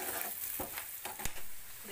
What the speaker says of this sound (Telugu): ఇది గోల్డెన్ బ్రౌన్ వచ్చే వరకు ఫ్రై చేస్తాం.